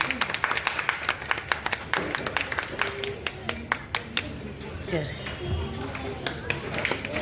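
An audience at a club installation event breaks into a round of hand clapping, sharp overlapping claps at first that thin into scattered claps, with a voice speaking over them.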